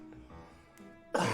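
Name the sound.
cough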